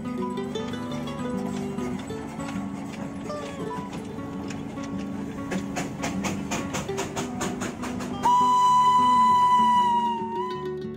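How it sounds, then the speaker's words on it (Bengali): A coal-powered Darjeeling toy train rumbles steadily along, then lets out a loud, sustained whistle near the end. "চোখে পড়ল একটি কয়লা চালিত টয় ট্রেন, যেটি ঘন ঘন মিষ্টি আওয়াজ করে পাড়ি দিয়েছে ঘুমের পথে।"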